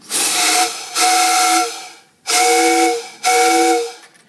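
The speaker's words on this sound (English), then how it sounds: "when I pull the rod, the whistle blows." Four loud, hissing blasts of the steam whistle on a Locomobile steam car, each about a second long, with brief pauses between them and no other sounds.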